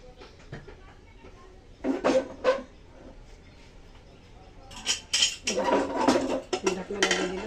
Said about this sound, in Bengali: ঢাকনা লাগিয়ে দিলাম